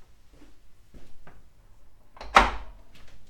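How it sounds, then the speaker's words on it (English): A room door swung shut indoors, landing as a single solid thud with a brief rattle, preceded by a few soft shuffling handling noises. "I'm gonna close the door."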